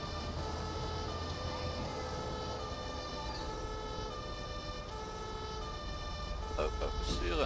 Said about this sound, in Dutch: Zachte sirene, geloof ik.